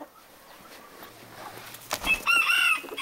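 Near the end a chicken in a backyard coop gives a short burst of clucking and squawking. Before that the clip holds only low background noise and faint rustling.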